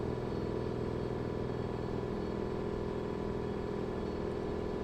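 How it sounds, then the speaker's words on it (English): A heavy Mack truck engine in American Truck Simulator drones steadily at a low, rumbling pitch, constant and fairly loud throughout with no voices. "engine sound"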